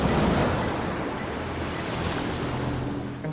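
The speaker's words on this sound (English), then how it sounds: "I just remember those waves, the sound of those waves." Big Pacific ocean waves roar in a steady, continuous wash of surf near a reef, loud and close, with wind buffeting the microphone throughout.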